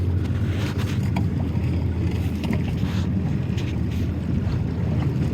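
Wind blows over a fishing boat on the water during hoop net fishing, a steady, close roar of buffeting microphone noise that carries on unbroken for the whole stretch.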